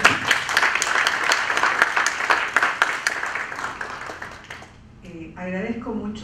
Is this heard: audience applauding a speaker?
yes